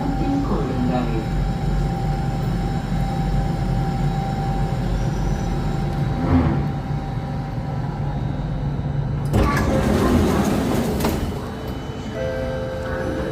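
An SMRT Circle Line C830 metro train runs between Pasir Panjang and Labrador Park, with a steady loud rumble of motors and wheels throughout and a harsher burst of squealing noise partway through, then settling back to the hum.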